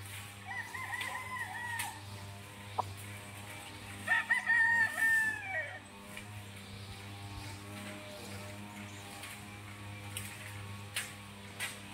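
Chickens cluck and a rooster crows on a farm, with several crows rising over a steady low hum and background noise, the loudest burst in the middle of the stretch.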